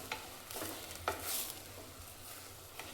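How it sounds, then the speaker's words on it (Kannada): Rice frying in a tempering for palak rice sizzles softly while a spoon stirs it, with several distinct scraping strokes against the pan over a low, steady hiss. "ಇದ್ರಲ್ಲಿ ಚೆನ್ನಾಗಿ ಅಕ್ಕಿನ ಫ್ರೈ ಮಾಡ್ಕೋಬೇಕು."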